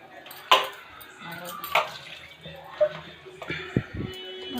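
Kitchen clatter of a dish of freshly mixed dough being covered to rest, several sharp clinks and knocks of lid against vessel at close range, heard alone with no voices.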